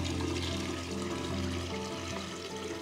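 Water mixed with floral food pours steadily into a vase, a continuous gurgling splash heard close up and alone, with no talking.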